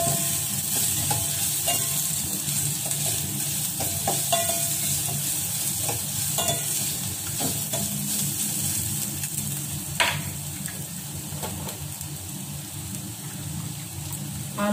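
Ingredients lightly frying in a pan: a dense, steady sizzle runs throughout at close range, with occasional soft stirring scrapes and one brief sharper clink midway.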